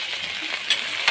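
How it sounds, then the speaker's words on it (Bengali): Onion frying in hot oil gives a brief, close, steady hiss with a couple of sharper crackles, lasting about a second with no voice. "আমি এখন পেঁয়াজ, পেঁয়াজ দিয়ে দিলাম"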